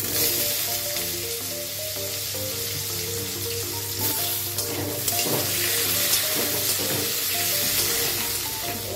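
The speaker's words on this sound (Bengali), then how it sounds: "একটু জিরে ফোড়ন দিয়ে দিলাম ছোট ছোট করে আলু কেটেছি এটা দিয়ে দিলাম" Cumin seeds and small diced potatoes frying in mustard oil with bay leaf, a steady close sizzle and crackle under a continuous musical background.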